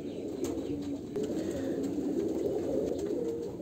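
A male and female pair of pet pigeons coo near at hand in a continuous, rhythmic throaty burble, with a few faint clicks and brief rustles mixed in.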